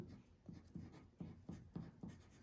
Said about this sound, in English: take your pencil and I want you to label the first part intro